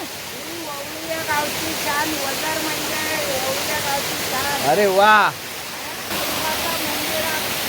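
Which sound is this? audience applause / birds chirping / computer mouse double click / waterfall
waterfall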